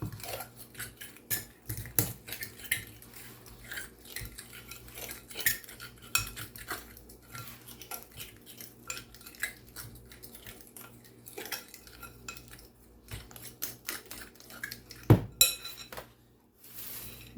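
Sloppy joe bake ingredients whisked together in a bowl: quiet, intermittent clinks and scrapes of a utensil against the dish, steady and unhurried throughout, with a sharper knock near the end.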